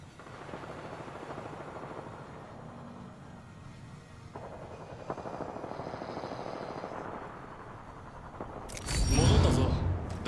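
Crypto's surveillance drone in Apex Legends: a steady, whirring hover drone held at an even level throughout, ending with a louder rushing burst near the end.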